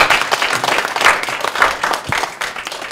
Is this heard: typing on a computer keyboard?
no